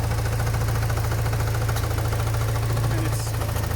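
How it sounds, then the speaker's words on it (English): Porsche 944 engine idling with a steady, rapid mechanical knock running underneath, close and continuous throughout the short stretch. "All right, we've got a knocking."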